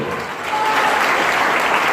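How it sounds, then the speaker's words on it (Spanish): A church congregation at a Spanish-language service applauds loudly, with a full, continuous roar of clapping that builds slightly and holds without voices over it. "Den un aplauso al Señor, y si lo va a hacer, hágalo fuerte."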